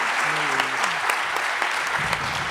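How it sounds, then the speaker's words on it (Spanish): Audience at a literary festival round-table gives loud, sustained applause to close a talk, dense steady clapping with a voice heard briefly over it early on. "Y este fuertísimo aplauso con el que acaba esta charla y empieza la siguiente."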